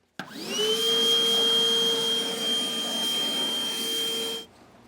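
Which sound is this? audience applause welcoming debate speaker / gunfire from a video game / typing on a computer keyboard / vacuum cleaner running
vacuum cleaner running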